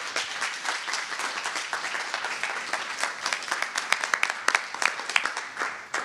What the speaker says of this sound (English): So please give a round of applause for him.